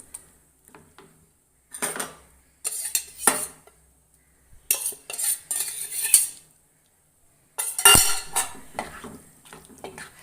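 Cooked green gram is tipped into a pot of raw banana curry, with clinking spoon and metal pot scrapes, stirring and light sizzling in short bursts separated by quiet pauses.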